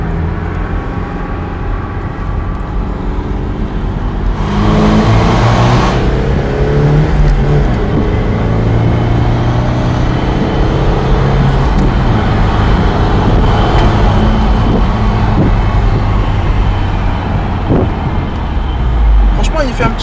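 BMW 320i E93 convertible accelerating on the road, a steady engine drone with rising tones and strong wind and road roar throughout, loud and close from inside the car.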